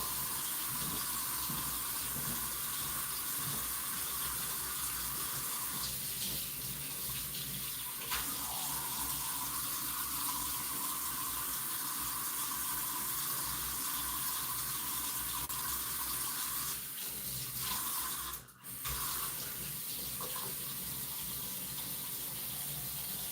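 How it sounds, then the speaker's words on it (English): Water runs steadily from a household tap, warming up, a constant close hiss that continues unbroken with a brief dip near the end. "Water's getting warm enough now."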